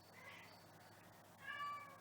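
A pet cat meows faintly indoors, a brief tonal cry near the end over quiet room hiss, with a softer earlier vocal murmur.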